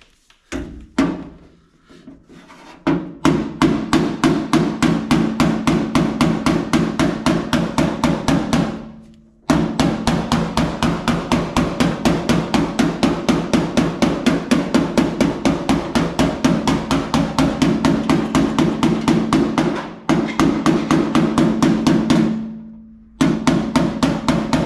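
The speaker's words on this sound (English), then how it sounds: "I'm actually working the dolly off the side of the hammer" Rapid, relentless metallic hammer blows on a 1964 Impala fender against a dolly, a fast even rhythm broken by a few short pauses, close and loud.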